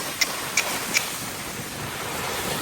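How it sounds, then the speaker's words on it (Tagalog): Strong wind and rough waves roar steadily at the shore during a fishing trip, a continuous broad wash of noise close to the microphone, with a few faint chirps near the start. "wrong timing, sobrang lakas ng hangin"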